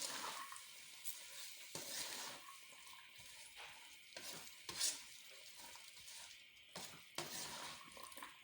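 Chopped capsicum and cabbage are stirred and fried in a pan for a spicy chicken spaghetti dish. A spoon scrapes and clinks steadily against the pan over a soft, constant sizzle, and no one talks.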